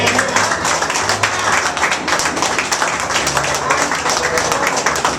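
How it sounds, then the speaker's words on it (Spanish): A church congregation applauding, dense sustained clapping from many hands that fills the room, loud and close, with voices faintly mixed in. "Denle un aplauso"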